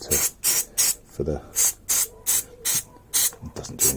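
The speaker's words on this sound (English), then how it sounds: "I realise I'm spraying brake cleaner up my discs as well" Brake cleaner sprayed on Fazer 600 front brake parts and discs: repeated short hissing spray bursts, about ten in quick succession with brief gaps between, close and fairly loud, with faint mechanical clicks underneath.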